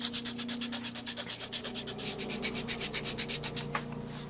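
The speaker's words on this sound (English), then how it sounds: "I may just resort to some coarse files" A fine 00 Swiss file rasps rhythmically across a chipped tip in quick, even back-and-forth strokes, close and crisp, around thirty strokes before slowing at the end.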